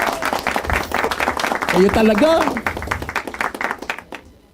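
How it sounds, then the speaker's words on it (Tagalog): An audience at a talk bursts into a few seconds of scattered, fairly close clapping that swells and then trails off, with a speaker's voice continuing over and through it. "Palakpak ulit, GBDD!"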